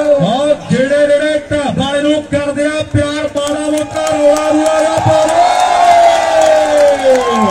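A crowd at a rural match ground claps and cheers loudly, with shouts and a voice calling out over the noise before the cheering swells and holds.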